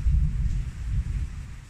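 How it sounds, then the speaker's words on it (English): Long, rolling thunder rumbles low and heavy during a storm, a continuous deep roar with faint rain noise behind it. "The thunder is still going."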